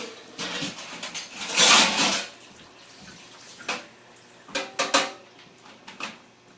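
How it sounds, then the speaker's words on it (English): Running water from a tap splashes over rinsing hands at an outdoor cleaning spot, with a loud gush early on, then softer intermittent splashes and clinks. "Alright, rinse my hand off."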